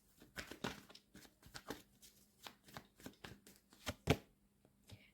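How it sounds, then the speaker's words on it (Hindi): Tarot cards are shuffled by hand in a rapid series of soft riffles and slaps, close and fairly quiet, with no voices. "मैं कार्ड्स को अच्छे से सफल कर लेती हूँ"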